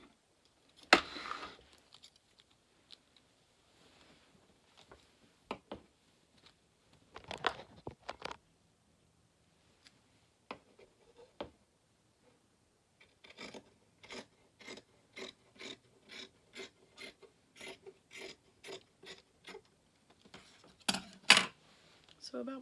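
Scissors cut through skirt fabric for a rococo cosplay dress in a rapid, even run of crisp snips at close range, after a few scattered handling rustles and taps.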